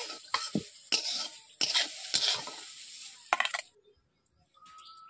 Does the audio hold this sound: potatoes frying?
yes